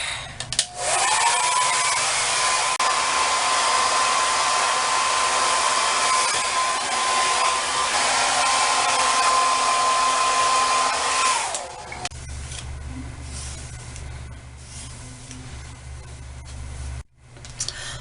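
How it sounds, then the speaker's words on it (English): A hair dryer blows steadily on hair for about eleven seconds, a loud continuous whooshing hiss with a faint whine, then cuts off, leaving a quieter low hum and some handling noise. "I'm gonna blow dry my hair"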